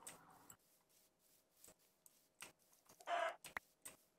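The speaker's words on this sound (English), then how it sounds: "Oh, I hear a chicken." A chicken clucks in a multiplayer video game set near a swamp, a few short faint bird calls scattered over a quiet background, with one louder burst standing out toward the end.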